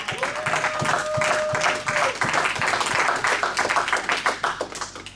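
Church congregation claps rhythmically for Jesus, sharp overlapping handclaps with a sustained tone and voices cheering over the beat.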